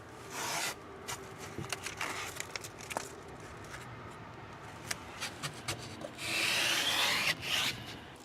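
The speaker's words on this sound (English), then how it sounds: "start to peel off the adhesive backing" Adhesive backing peels off Velcro strips for a car headliner upgrade, a close series of rubbing, crackling tears and scrapes with brief sharp snaps, ending in a longer ripping pull.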